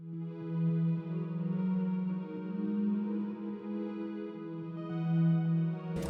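A sustained synth pad with a randomly chosen reverb-type effect holds warm, washy chords that drift between notes, playing alone and ending in a brief click.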